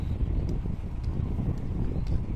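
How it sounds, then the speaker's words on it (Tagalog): Low, rumbling wind buffeting the microphone, steady and blustery, with faint faraway clicks above it and no talking. "Medyo hangin-hangin."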